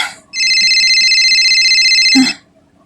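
A cellphone ringtone sounds loud and close, a steady electronic ring lasting about two seconds before cutting off, with a brief voice at the start.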